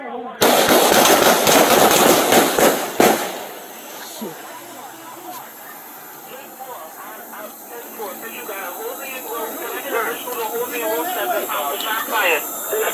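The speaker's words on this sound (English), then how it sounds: "Shots fired." Gunshots during a police confrontation at a street intersection, a loud close burst of sharp cracks in the first few seconds, followed by quieter radio chatter and voices.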